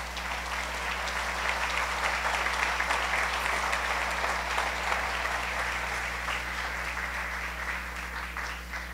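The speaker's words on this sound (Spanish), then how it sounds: "dele un aplauso a nuestro amado Dios." A church congregation applauding at a Sunday service, a dense, continuous clapping that holds steady for several seconds over a low constant hum, with no speech on top.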